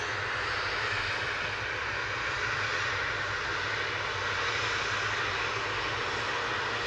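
A blue KLM jet airliner lines up for departure to Amsterdam at Manchester Airport at sunset. A steady, broad engine roar holds without a break, heard from a distance with no talk.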